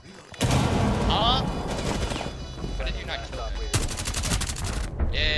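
Rapid bursts of gunfire in Rainbow Six Siege, loud automatic volleys and sharp single shots crackling through most of the stretch, with players' voices talking over the shooting.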